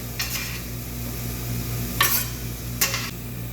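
Beef sautéing with onion, pepper and other vegetables in a pan over a constant low kitchen hum, with three brief bursts of spatula stirring and sizzling spaced out across the stretch.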